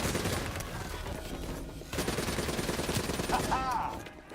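Sustained automatic gunfire shooting down enemies in the game Black Ops 3, a fairly quiet, steady rattling stream of shots with a brief pause partway, ending with a whooshing effect.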